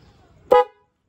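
A Honda Click scooter horn gives one short, sharp honk, loud and close, after a near-silent moment, then cuts off cleanly.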